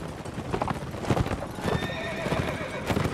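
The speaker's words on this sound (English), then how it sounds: "Need to steal a horse!" Horse hooves clatter in a galloping rhythm and a whinny rises partway through in the Napoleonic-era multiplayer game Mount and Musket, set against busy game noise.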